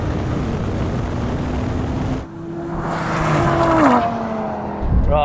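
Porsche 911 Turbo S and a 716 dk Audi RS3 in a drag race: loud roaring engines and tyre noise, a sudden drop, then rising revs with gear changes as the cars pull away.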